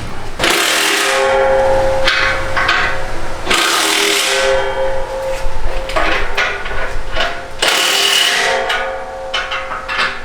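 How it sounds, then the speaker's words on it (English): A rubber mallet knocks a Borla ATAK exhaust pipe onto the X-pipe of a 2020 Mustang GT, giving three or four dull, loud thuds spaced a few seconds apart, with scraping and clattering of metal and tools in between. "having a rubber mallet comes in handy just to help you slide this all the way onto the Xpipe"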